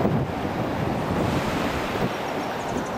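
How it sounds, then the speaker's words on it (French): Wind gusting on a beach by a hotel on Réunion, a loud continuous rushing roar with microphone buffeting, mixed with the broad wash of surf and no voices. "il y a un petit peu de vent"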